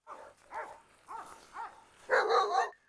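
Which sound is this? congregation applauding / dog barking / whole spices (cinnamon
dog barking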